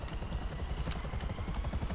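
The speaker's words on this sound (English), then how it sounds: "It's giving me a helicopter. Let's do the helicopter." A Buzzard helicopter in GTA 5 Online beats with a steady, fast rotor chop and an engine whine, loud and continuous throughout with no talk.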